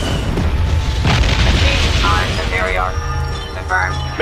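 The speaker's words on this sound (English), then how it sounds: "Bombardment incoming." Heavy bombardment explosions in a Star Wars game, imperial forces invading, rumble as deep loud booms with a sharp crack, while voices talk over the din.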